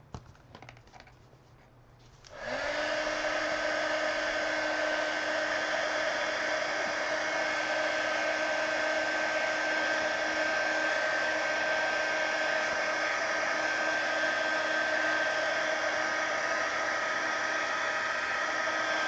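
Hair dryer blowing to dry wet layers of coloring, switching on after a quiet moment with tapping, then a steady loud whooshing hum that runs unbroken to the end, with no talking.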